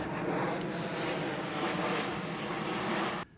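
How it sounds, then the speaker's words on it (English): A steady, broad roar of an airplane passing overhead near the ancient Roman aqueduct Aqua Claudia, loud and sustained without voices, cutting off abruptly at the end. "I'm gonna wait for this plane to pass."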